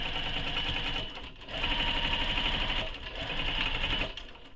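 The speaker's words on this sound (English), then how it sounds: "So top stitch across the folded edge." A sewing machine top stitches across the folded edge of fabric, a close, loud whirring rattle in bursts of about a second or two with brief slowdowns between runs.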